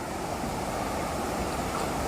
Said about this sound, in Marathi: पाण्याचा आवाज ऐकताय